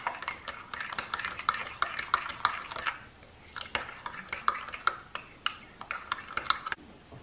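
Metal utensil clinking and scraping against a bowl in a steady stirring rhythm, close up, with no talking.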